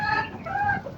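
Chickens and a rooster on a small poultry farm cluck loudly and close, a brief burst of several overlapping calls.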